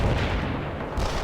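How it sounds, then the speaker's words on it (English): Mortar fire in the World in Conflict video game, a dense, continuous rumble of low booms filling the short stretch at steady loudness with no gaps. "Firing mortars."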